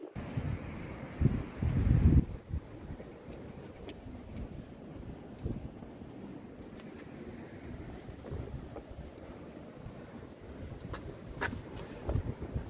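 Wind gusts buffet the microphone with a low rumble, strongest at first and then settling into a steady outdoor roar.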